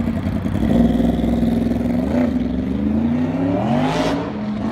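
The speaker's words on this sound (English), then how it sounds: "Most aftermarket mufflers or cans look incredible. And they sound amazing." Motorcycle fitted with an aftermarket exhaust revs close by, its engine note climbing and falling in a few swells over a rough mechanical clatter.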